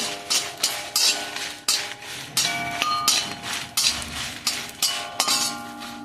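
Metal utensils clink and clatter against a pan while fried chilli peppers are lifted out, in sharp irregular knocks repeating every half second or so, close and fairly loud with no talking.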